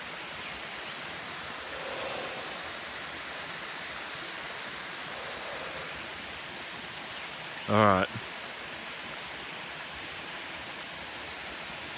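Water flows over a creek weir in a steady, broadband rush that stays even throughout, with a brief voice and a short electronic chirp partway through.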